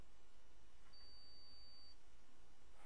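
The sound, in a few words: multimeter continuity test beep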